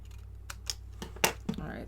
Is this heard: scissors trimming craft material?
yes